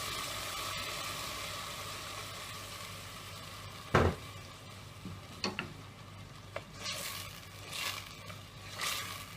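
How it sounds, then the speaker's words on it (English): Ground masala paste frying in hot oil for methi gosht, a steady close sizzle throughout with a sharp clatter as the paste goes in and a few lighter scrapes and ticks after. "Once the oil is hot, I am going to add the grinded masala paste."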